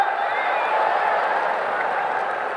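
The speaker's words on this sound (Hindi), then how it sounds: "हिंदी में बोला तो ताली" An audience claps and applauds at a political speech, a steady moderate wash of clapping that holds for a few seconds without voices on top.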